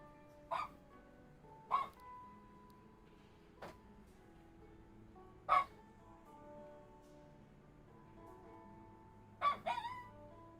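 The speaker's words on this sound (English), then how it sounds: "That's what a cockapoo bark sounds like" A cockapoo dog barking five times at irregular intervals, each one a short, sharp yelp rising out of a quiet, faint room background.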